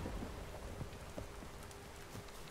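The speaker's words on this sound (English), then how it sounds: "I like raining effect in real life more" Steady rain falls in The Witcher 3: Wild Hunt, a constant soft hiss of drops with scattered patters on surfaces, low and even throughout.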